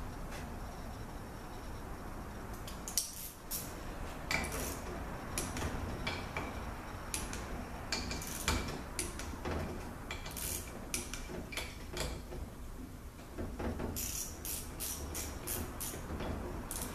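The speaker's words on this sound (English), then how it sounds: "now we're going to torque these down to" A torque wrench tightens bolts on a ZF 4HP22 transmission to 100 inch-pounds, with scattered metallic clicks, ratcheting and tool clatter, close and fairly quiet, coming in irregular clusters.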